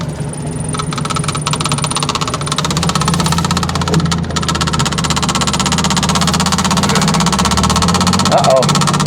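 A Ford Fiesta running for the first time in 17 years, a steady close engine hum with a faint rattle beneath it, and a voice talking over the engine.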